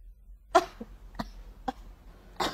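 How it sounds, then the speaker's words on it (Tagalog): A person does a subtle acted cough, a few soft, restrained throat bursts spaced through a quiet room, close and faint. "Ubo number 3. Mas subtle, mas nuanced."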